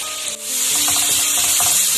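Steady sizzling of onions, tomato, dried red chillies and spices tempering in hot oil, with stirring scrapes, close and continuous with no talking.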